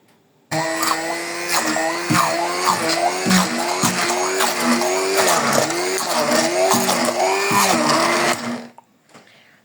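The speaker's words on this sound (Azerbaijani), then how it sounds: "Əvvəlcə biraz xurmanı əzirik blender vasitəsilə" A blender whirs loudly for several seconds, its motor pitch rising and dipping rhythmically as it mashes dates for pudding, then cuts off abruptly.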